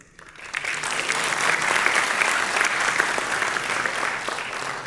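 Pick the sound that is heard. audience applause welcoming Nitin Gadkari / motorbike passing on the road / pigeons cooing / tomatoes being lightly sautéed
audience applause welcoming Nitin Gadkari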